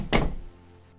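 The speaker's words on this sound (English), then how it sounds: "Then he softly closes the door behind him." A single soft thunk of a door closing nearby, followed by a brief fading resonance and quiet room tone.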